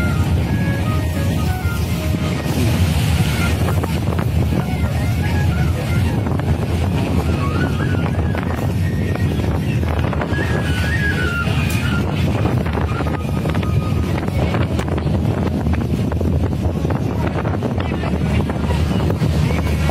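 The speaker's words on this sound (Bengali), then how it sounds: "ছলাপ ছলাপ পদ্মার ঢেউ" Padma river waves wash and lap around a boat near Chandpur, a continuous loud churn heavily buffeted by wind on the microphone, with faint voices mixed in.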